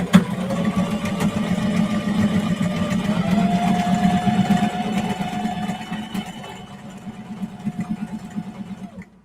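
A sewing machine stitches clear vinyl for a project bag, its motor humming steadily with rapid needle pulses, easing off and running quieter toward the end.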